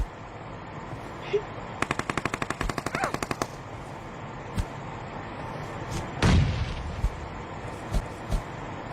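Gunfire in a shooter video game scrim match: a rapid burst of automatic fire, then scattered single shots and a heavier boom, sounding fairly close over faint game ambience.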